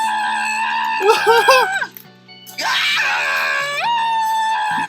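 Cartoon tow truck Mater from Cars screaming in shrill, strained, wavering bursts, one rising shriek, a short break, then a long loud sustained scream that ends abruptly.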